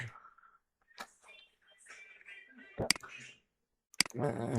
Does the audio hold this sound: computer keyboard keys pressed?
yes